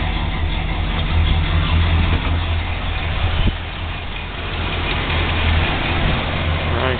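A 1971 Chrysler 300 engine idling in a garage, producing a steady low rumble that holds at an even level throughout, with no talk over it.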